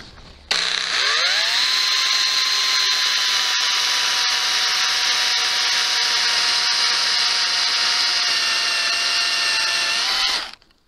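A powered cutting tool whines while pruning a stub off a cherry tree, spinning up quickly into a steady high-pitched drone that holds for about ten seconds before cutting off abruptly.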